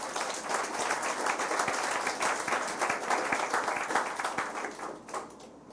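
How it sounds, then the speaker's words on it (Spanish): A church congregation applauds together in a steady, dense wash of clapping that holds loud for several seconds and then begins to thin out toward the end. "De un aplauso, Señor."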